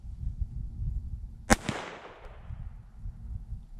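A single sharp .22 LR shot from a 5-inch barrel Ruger pistol firing a 36 grain Federal hollow point into ballistics gel, a loud crack with a short echoing tail over faint background rumble.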